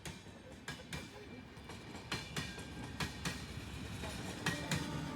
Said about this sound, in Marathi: मित्रांनो ट्रेन चालली इथून.